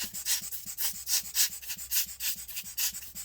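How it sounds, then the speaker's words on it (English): A small hand-squeezed air blower puffs air at a laptop fan in a Gigabyte Aero 15, giving about a dozen short, soft breathy whooshes in a steady rhythm, close and fairly quiet, with no talking. "I'm going to use this little air blower and try and blow any dust from this."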